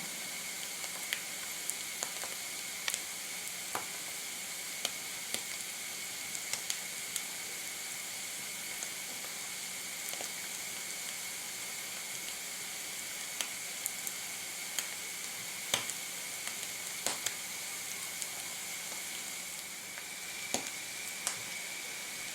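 Mushrooms (violet wood blewits) stewing in a pan give a faint, steady hiss and soft sizzle, with light scattered clicks from stirring.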